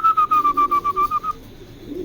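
A pair of racing pigeons gives a close, loud series of about ten rhythmic cooing pulses over roughly a second, then falls quiet with only faint background noise.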